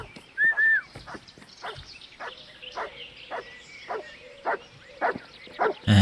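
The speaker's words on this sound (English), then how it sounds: "Dog is back" A dog in Kingdom Come: Deliverance barks in a series of sharp, close woofs spaced irregularly over quiet game ambience, with occasional yelps between.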